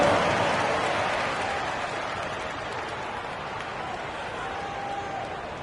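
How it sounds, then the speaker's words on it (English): Steady crowd applause from the basketball video game NBA 2K25 on PS5, Timberwolves vs Heat, fills the space, loud at first and slowly tapering to a softer, sustained clapping with a faint murmur beneath. "Give them a round of applause."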